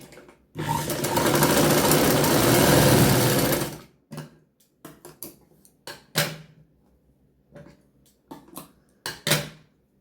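A sewing machine runs in one sustained burst of rapid stitching on blouse fabric, followed by a string of short clicks, knocks and brief handling noises as the cloth is adjusted.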